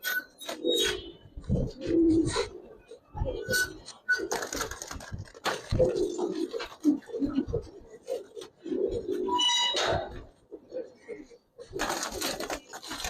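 Giribaz and coloring pigeons on a rooftop coo in soft, repeated low calls, with bursts of wing flutter and scuffling mixed in, while someone talks close by throughout.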